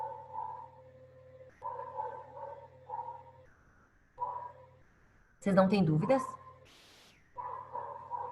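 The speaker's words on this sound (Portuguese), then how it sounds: "desculpa o latido do cachorro do vizinho aqui do lado" Neighbor's dog barking next door in a run of short bursts, mid-distance, heard around an ongoing video-call voice in Portuguese with a steady hum underneath.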